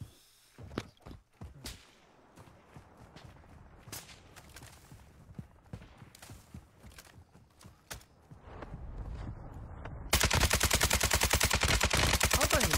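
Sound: sniper gunfire in a video game

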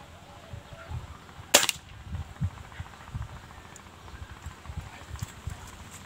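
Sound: air rifle shot

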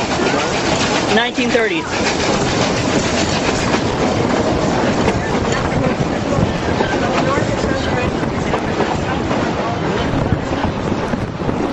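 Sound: Durango and Silverton locomotive train running

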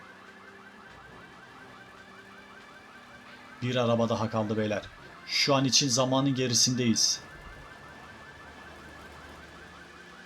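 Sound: car alarm in video game Grand Theft Auto 3

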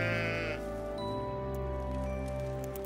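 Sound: sheep bleating

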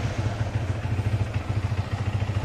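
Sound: Yamaha R15 V3 motorcycle engine running, in gear

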